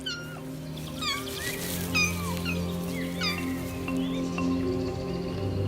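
Two-week-old lynx kittens in the Bohemian Forest call out for their absent mother with a series of high, plaintive meows, repeated every second or so over a steady low background hum.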